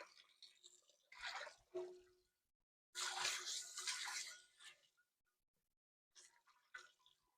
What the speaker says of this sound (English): So I'm just gonna rinse it out with nice warm water.